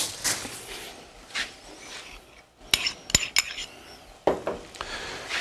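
Oil swirled around a hot pan while searing pork with caramelized onions, a soft sizzle under scrapes and clinks of metal utensils against the pan, with a few sharper clanks near the middle.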